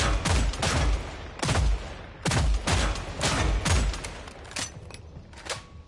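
Sharpshooter base rifle firing in the shooter game Killing Floor 3: loud, sharp single shots spaced about a second apart, some in quick pairs, each with a short ringing tail, ending in lighter clicks.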